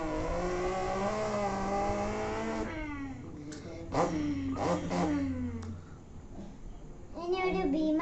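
A mimic imitates a racing car with his voice. Loud, sustained buzzy revs rise and fall in pitch, with sharp roaring bursts and a final accelerating whine.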